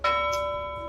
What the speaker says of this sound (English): bell notification